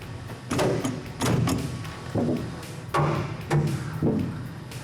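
Several heavy metallic thuds struck in an uneven series, close by, each with a short ringing decay, a hammer driving studs into the firewall of a 1971 Plymouth 'Cuda convertible.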